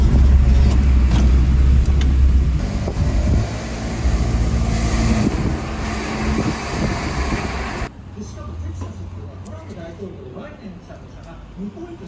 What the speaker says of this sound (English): Oh, let's listen to the car here.